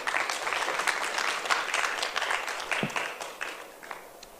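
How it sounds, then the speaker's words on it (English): Audience applause at a book launch for a novel: dense, sustained clapping from a roomful of people, steady throughout and starting to thin toward the end. "Another round of applause, please,"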